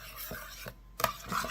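Tomato marinara sauce being stirred in a pot with a spoon, a few soft scraping and rubbing strokes with a brief pause, close and quiet.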